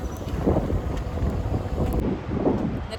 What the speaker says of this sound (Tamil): இன்றைக்கி பயங்கரமாக காற்றடிக்குது, என்னன்னு தெரியலை.